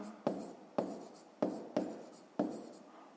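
Pen strokes writing by hand on paper during a grade 5 maths exercise, with five distinct, close scratchy marks at a steady pace and no talking.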